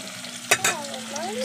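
Eggs fry in a pan on a gas stove with a steady sizzle, broken by two sharp clatters of a utensil against the pan.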